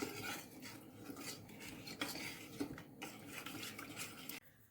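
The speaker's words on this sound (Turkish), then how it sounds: "Ocağa almadan önce şöyle bir karıştıracağım." Milk is stirred together with a packet of plain pastry cream mix in a pot, giving quiet, continuous scraping and swishing strokes with a few light clinks that end abruptly.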